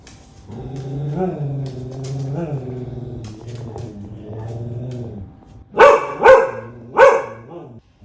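A rescue dog growls in a low drawn-out rumble at an Enabot Rola Mini robot, then lets out three sharp, loud barks near the end.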